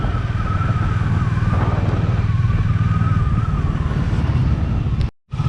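Motorcycles riding along a road at night in Hyderabad near the start of the metro line: a continuous close engine drone with passing traffic and some rattling, briefly cut out near the end.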